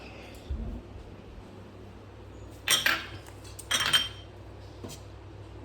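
A metal spoon clinks and scrapes against a plate while egg curry made with coconut milk is served, two clear bursts of scraping and a lighter tap in a quiet home kitchen.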